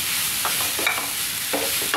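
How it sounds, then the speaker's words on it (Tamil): Beetroot sautéing in ghee in a pan for beetroot halwa, a steady close sizzle with intermittent scraping and stirring strokes, no voices. "இப்போ அதே பேனில் அதே நெய்யில் வந்து நம்ம எடுத்து வச்சுருக்க பீட்ரூட்டையும் நல்லா தட்டி கொஞ்சம் வதக்கி எடுத்து விடுவோம்"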